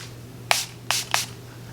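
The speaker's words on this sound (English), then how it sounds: "To set all this, I'm gonna use Milani Make It Dewy setting spray." Milani Make It Dewy setting spray misted from a pump bottle in three short, crisp spritzes, the first alone and the last two close together, over a low steady hum.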